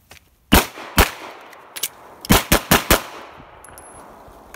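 Gunshots fired at targets during a moving shooting drill, loud close sharp reports: two spaced shots, then a quick string of four more, with echoing decay in an outdoor range.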